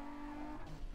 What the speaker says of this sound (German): Mit 350 Z driften.